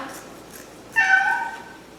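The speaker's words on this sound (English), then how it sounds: "I have a stray kitty that moved in with me." A stray cat gives one clear, fairly close meow partway through, preceded by faint background sounds and quiet surroundings.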